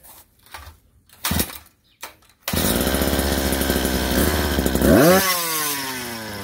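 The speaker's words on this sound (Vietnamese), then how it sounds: "giật nghe anh em nghe tiếng máy đã lắm" After a few pull-start tugs, a small four-stroke brush cutter engine roars to life and runs loudly, then revs up sharply before settling back to a steady idle.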